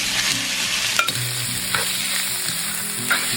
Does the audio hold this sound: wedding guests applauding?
no